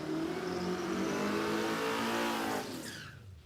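A drag racing car accelerates hard down the strip at an Australian dragway, a loud, sustained engine roar with rising harmonics that fades and drops away into the distance near the end.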